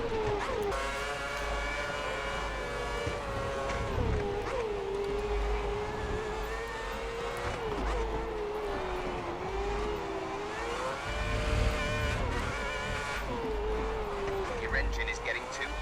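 A Formula One race car engine in the F1 2010 video game, racing at Bahrain, holds a loud, continuous high-revving whine that rises and dips slightly with throttle changes throughout.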